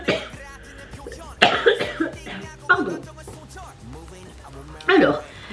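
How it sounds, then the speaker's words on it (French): A single person coughs a few times in quick bursts, close and fairly loud, between stretches of their own quiet speech. "Attention, je vais tousser."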